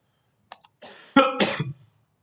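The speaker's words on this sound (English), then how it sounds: "I have a mild cough because of that." A single short cough preceded by a small throat-clearing sound, close and alone in otherwise quiet surroundings.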